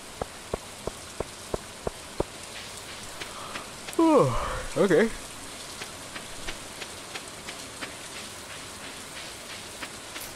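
Rain falling in the video game Stardew Valley, a steady soft patter with a regular ticking pulse, under brief speech from players.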